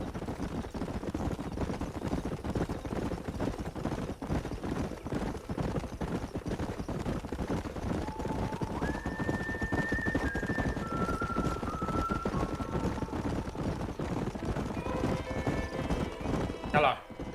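In Red Dead Redemption on Xbox Series S, horses gallop across open country with a steady, rhythmic clip-clop of hooves that continues throughout, joined by a whinny near the end and faint tonal game sounds in the background.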